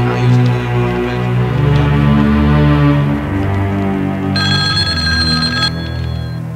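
A telephone rings briefly over loud, droning music, its bright electronic tone standing out for about a second.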